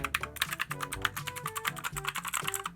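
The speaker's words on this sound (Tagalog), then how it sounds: "mapapansin nyo, sobrang clicky niya. Kasi mechanical keyboard to guys." Rapid, steady keystrokes on a clicky mechanical keyboard, each key giving a sharp, close, bright click in a quick rhythm, heard alone without any talking.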